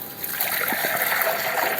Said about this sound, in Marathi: जरा पाणी ओतून ठेवतो.